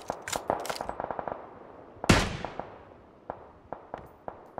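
Bursts of automatic gunfire in a shooter game, quick sharp cracks in rapid strings with a louder blast near the middle and scattered single shots after it.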